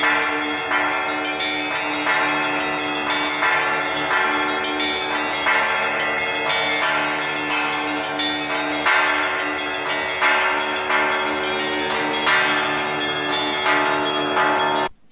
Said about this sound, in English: I don't know whether you can hear, but it's the Federation bells.